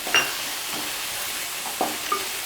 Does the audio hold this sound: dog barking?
no